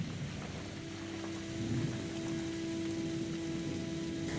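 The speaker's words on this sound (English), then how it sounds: "So this is a rainy season." Steady rain from the video game SEASON: A letter to the future hisses as an even, continuous wash, with a faint low tone running beneath it and no voices.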